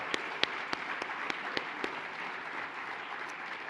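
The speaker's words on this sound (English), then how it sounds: "Big round of applause." Scattered claps ring out at an arts awards show, a handful of sharp distinct hits spaced irregularly over a soft wash of fading crowd applause, moderately distant and quiet.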